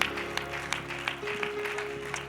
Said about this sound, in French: Can we give a hand clap of praise to God?